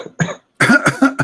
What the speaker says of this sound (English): Yeah, cough.